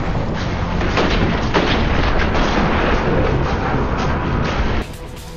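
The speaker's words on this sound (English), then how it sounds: "The explosives are a little over the top" Explosions in the PSVR shooter Fracked roar as one loud, dense, rumbling blast that holds for several seconds before dropping to a quieter tail.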